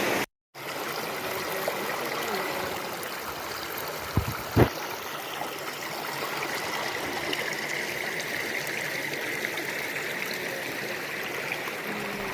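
A forest river flows steadily with close, continuous trickling and gurgling water, a brief louder splash or knock breaking the even rush for a moment.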